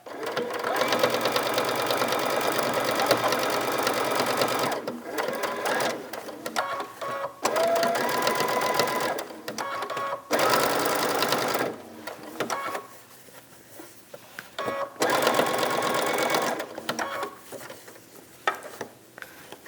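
A sewing machine stitches fabric for a biscornu cushion, running in steady whirring bursts separated by short pauses, loud and close.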